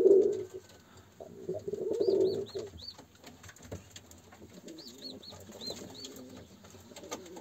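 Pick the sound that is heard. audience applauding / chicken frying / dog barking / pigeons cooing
pigeons cooing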